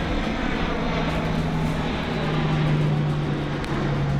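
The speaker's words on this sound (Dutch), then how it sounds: "zoals het kustwachtvliegtuig." A Dutch coast guard aircraft flies with a loud, steady engine drone and a sustained low hum throughout, unbroken and close, with no voices.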